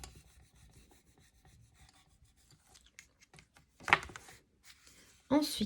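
A bone folder is drawn down the centre of a paper pop-up card to score it, making soft, close rubbing and rasping strokes that end in a few louder scrapes, with a speaking voice now and then.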